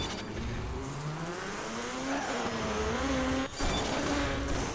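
Rally car in DiRT 3 revving hard as it swings into a handbrake turn, engine pitch rising and falling with gear shifts and a brief dip in power, loud and continuous throughout.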